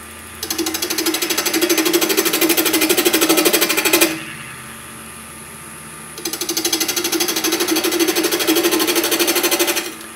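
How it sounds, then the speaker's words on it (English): A spindle gouge cuts a walking stick spinning on a wood lathe, producing a loud, rapid rattling chatter in two long bursts separated by a quiet pause of about two seconds. "and I'm using a spindle gouge"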